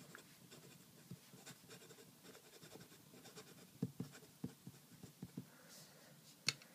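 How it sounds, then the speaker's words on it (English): Waterman Harley Davidson Horizon fountain pen writing on paper with blue ink, faint soft scratches and light taps of strokes in irregular rhythm, close and quiet with no talk. "So, let me just write something like really quickly."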